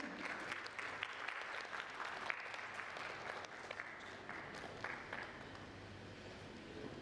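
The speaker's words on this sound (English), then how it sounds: "Can we have a huge round of applause and welcome him?" An audience applauds a speaker being welcomed onto the stage at an Indian food safety and fortification event, a steady, quiet wash of clapping that carries on through the whole stretch without a break.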